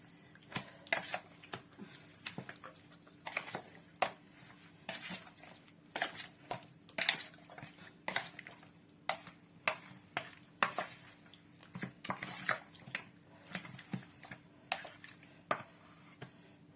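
Marinated chicken drumsticks are tossed and stirred in a bowl, giving irregular clinks and knocks of utensils against the dish with soft wet shuffling between, close and fairly quiet.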